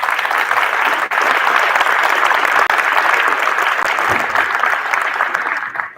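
An audience applauds track athletes at a high school athletic hall of fame induction night, a steady, dense wash of many hands clapping that holds loud and even for the full stretch before tapering slightly at the end.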